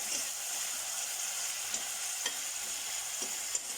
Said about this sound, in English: And I'm going to let this fry until it's a nice golden color.